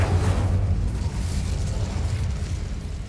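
An Incendio fire spell blasts in Hogwarts Legacy with a loud, dense, roaring burst that rumbles at the start and then holds as a steady fiery rush for a few seconds.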